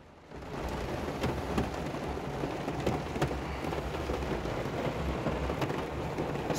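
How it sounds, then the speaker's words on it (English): Heavy rain pours down steadily outside a 1990 BMW E30 M325i, a dense continuous hiss of drops hitting surfaces, with low thunder rumbling underneath and a few sharper cracks of louder drops standing out throughout. "Still raining hard."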